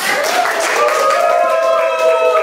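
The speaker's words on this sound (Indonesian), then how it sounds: "Tepuk tangan untuk semuanya." Students applauding in a classroom, loud clapping mixed with high young voices calling out over it, continuing steadily throughout.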